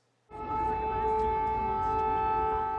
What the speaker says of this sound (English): air sirens wailed in Kyiv, heralding rough hours ahead